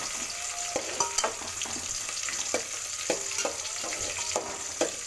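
Ingredients for a simple pulao frying in oil while stirred, an even sizzle punctuated by rhythmic spoon taps and scrapes against the pan, close and clear with nobody talking.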